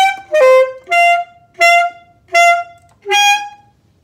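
Alto saxophone playing a short phrase of six separate tones with rich harmonics, each held about half a second and separated by brief gaps, loud and close with no talking.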